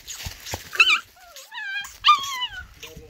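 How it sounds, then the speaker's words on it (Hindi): Bhotia dog puppies whimper and yip in a string of high, wavering cries close by, with short pauses between the calls and no talking. "ये देखो प्योर भोटिया कुत्ते हैं।"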